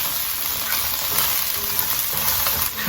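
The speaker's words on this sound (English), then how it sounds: "I'm going to stir fry all of this ingredient here. The lemongrass, the chili, garlic, and shallot." Loud, steady sizzling of lemongrass, chili, garlic and shallot being stir-fried in hot oil, with faint scraping of stirring underneath, close and continuous with no talk.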